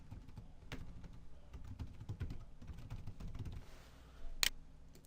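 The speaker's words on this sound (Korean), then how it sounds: "키보드를 이용해서 여러분들이 원하시는 그 문구를 입력을 하시고요" Quiet, steady typing on a computer keyboard while entering title text in video editing software, soft rapid key clicks running continuously with one sharper click near the end.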